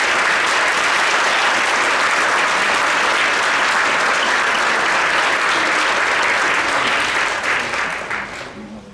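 Audience at a degree ceremony applauds graduates with sustained, dense clapping that fills the hall loudly and steadily, then tapers off near the end.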